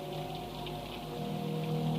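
Steady rain falls outside a window, a soft continuous patter and hiss heard faintly from indoors, swelling slightly toward the end with no voices.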